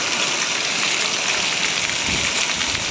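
Heavy rain mixed with hail pounds down on a village, a dense, steady, loud roar of falling water that holds without pause and with no voices.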